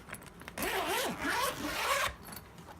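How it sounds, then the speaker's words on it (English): A zipper on the fabric front panel of a cat crate is pulled close by in two long, rasping strokes, with brief rustling before and after. "but it has a zipper."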